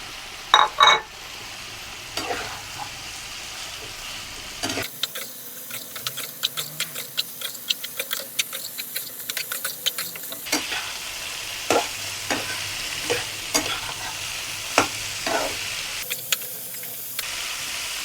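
Half-boiled cauliflower and potatoes frying with turmeric, chili powder, salt and ground spice paste, with a hissing sizzle and repeated scraping stirs of a spatula in the pan, close and loud, in bursts with brief quieter gaps.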